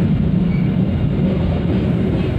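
Inside the Serayu night passenger train running on rails, a steady, loud low rumble and rolling roar carries on without a break, with no voices.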